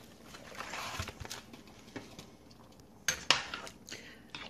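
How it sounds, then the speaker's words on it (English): A spoon stirring catfish stew in a cooking pot, soft scraping and clinks of utensil against metal, a couple of sharper knocks near the end, close and fairly quiet. "I'm just going to add my fish to the mix and give it a stir."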